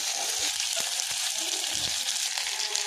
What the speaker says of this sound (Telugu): పొట్టి చేపలు నూనెలో వేయాలి మంచిగా